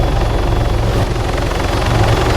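Helicopter hovering in the video game Arma 3, a steady, loud rotor thump with a continuous turbine drone filling the whole stretch, no voices.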